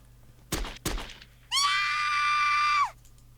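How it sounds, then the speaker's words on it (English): In the visual novel game Chaos Head Noah, two sharp thuds are followed by a woman's long, high, sustained scream, loud and clear against a quiet background. "I heard a dry explosion in the distance, followed by a lady screaming"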